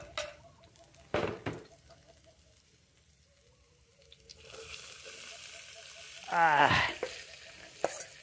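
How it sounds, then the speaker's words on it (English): Bitter melon (ampalaya) pieces fry in a pan with a faint, soft sizzle, broken by a few sharp utensil knocks and a brief rising tone near the end. "Now put vegetables in the my pan."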